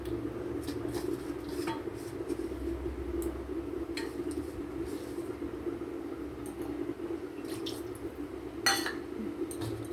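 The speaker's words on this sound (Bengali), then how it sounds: "মশলার বাটিটাকে ধুয়ে এর মধ্যে জলটা দিয়ে দেব।" A bowl used for spices is rinsed with water in a home kitchen, giving faint clinks of metal dishware and light splashing and dripping, with a few sharper taps near the end.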